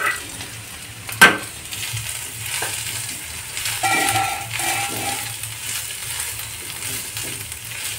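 Soybeans tipped into a pan of cooked beans, a sharp clatter followed by a low, continuous sizzle and occasional light stirring scrapes.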